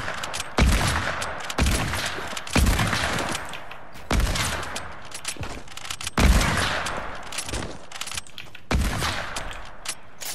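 Sniper rifle shots ring out in the Fortnite Battle Royale video game: about eight loud, sharp cracks spaced roughly a second apart, each trailing off with a short echo, with no talking.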